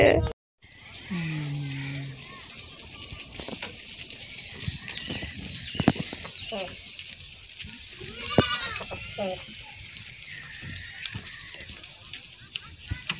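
Goats bleat in a village setting, one clear bleat early on followed by scattered fainter calls, while people talk over much of it.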